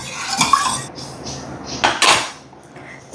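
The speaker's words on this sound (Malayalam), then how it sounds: "നമുക്കൊന്ന് ഇളക്കി കൊടുക്കാം." A utensil stirs turmeric water in a metal cooking pot, giving a few loud scraping clinks against the metal in two short bursts with quieter clattering in between.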